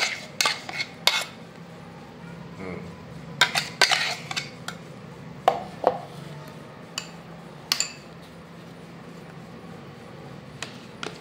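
Spoon clinks and scrapes against a bowl as mashed banana and olive oil paste is stirred, giving scattered short metallic taps and knocks over a quiet room, irregular and close.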